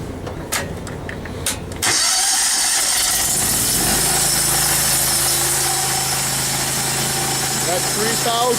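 A pressure washer engine cranks over after a few light clicks, then catches and settles into a loud, steady running drone, with a faint high squeal near the end.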